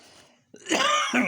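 A person coughs close up: a short sharp catch, then a rough, throaty burst of coughing that carries on for almost a second.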